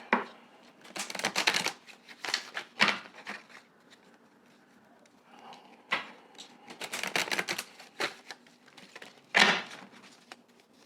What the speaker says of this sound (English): Gonna give it 3 shuffles.